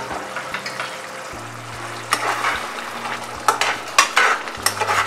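Prawn gravy with chopped green chilli and coriander leaves being stirred in a pan: a spoon scrapes and clinks against the metal in repeated strokes over a soft simmering bubble, near and clear, with no talk.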